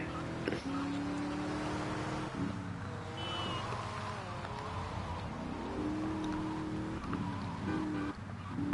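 Car engine droning steadily through a drive in GTA Vice City Definitive Edition, with pitch rising and falling as it accelerates and shifts, a brief squeal partway through, and faint talk underneath.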